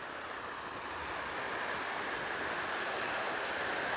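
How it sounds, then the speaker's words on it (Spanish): A river near the community of Coxcoapan in Veracruz flows with a steady, broadband rushing wash, even and continuous, moderately loud with no voices. "para acá está lo que es el río"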